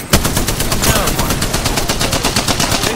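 Rapid automatic gunfire in Apex Legends: a loud, dense stream of evenly spaced shots fired continuously for several seconds at close range, with other weapons cracking in the mix.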